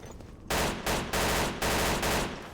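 Automatic stocked Mauser firing in a Source engine shooter, delivered as several loud full-auto bursts separated by short pauses, each burst dense and sharp.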